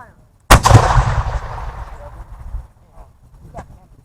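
A loud, close black-powder volley booms out at a Civil War reenactment, its heavy blast rolling and echoing for a couple of seconds before a fainter, more distant shot follows, with commands shouted nearby.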